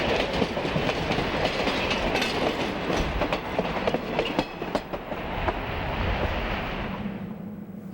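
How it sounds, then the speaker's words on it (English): A B&O diesel local freight train with three cabooses rolls westbound past a station nearby, wheels clicking and clattering over rail joints in a steady rhythm, loud and continuous throughout. "A westbound local passes the station."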